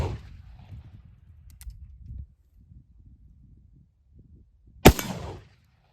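An Uberti 1860 Army revolver is fired once outdoors, a single sharp, loud report with a short echoing tail after a stretch of low rumbling background.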